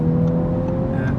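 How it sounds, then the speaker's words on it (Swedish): An Audi S5 Sportback's six-cylinder engine hums in a deep, steady drone, loud and close, holding one even pitch through a brief moment with no voices. "Och ljudet på en 6-cylindrig motor, det är riktigt fint tycker jag."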